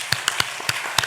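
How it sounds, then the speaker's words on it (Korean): A church congregation claps briefly, a handful of crisp, close, irregularly spaced claps in quick succession with no talking over them. "모두 위해서 한번 박수 칠까요?"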